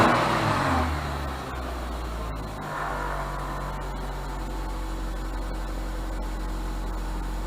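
A 2003 Nissan Altima engine idles steadily with a low, even hum, after a brief rise in sound at the very start.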